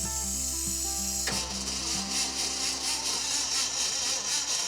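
An old Ford Ranger engine with no spark cranks on the starter without firing, a steady mechanical churning that runs unbroken and fairly loud with no catch or change in pace.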